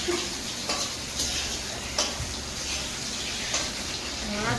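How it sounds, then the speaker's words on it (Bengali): A small batch of fish cooking in a pan in a home kitchen: continuous soft sizzling and frying with occasional clinks and scrapes of a utensil stirring, and no talk. "মাছ অল্প করে রান্না করছি"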